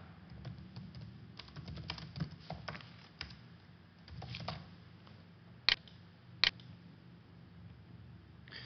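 Quiet, uneven keystrokes tap on a computer keyboard, with two sharper, louder key presses standing out near the end.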